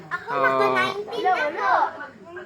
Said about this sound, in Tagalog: Ang ingay kasi dito kasi nagalaro na itong mga bata na to, ang ingay oh.